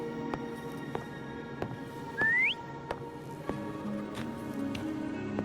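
A short rising whistle sounds once to call Foam in Wuthering Waves, clear above a low background hum and scattered soft hoof-like taps.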